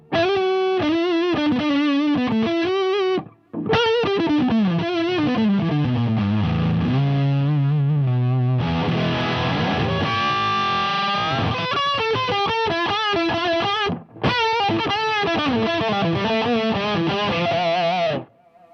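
An electric guitar played through a Boss SD-2 overdrive with the tone knob turned fully down gives dark, thick distorted riffs and sustained chords, loud and close, with two brief pauses.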